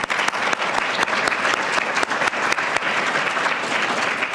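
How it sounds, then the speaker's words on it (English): A symposium audience gives a full, steady round of applause to greet social entrepreneurs of the first SEED cohort, many hands clapping densely and loudly without pause, with no voices standing out. "and if we could all greet you with a round of applause"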